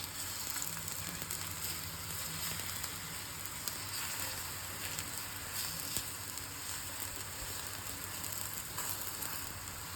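A ripe nendran banana roasts in a pan with a steady, even sizzle that runs unbroken and without talk.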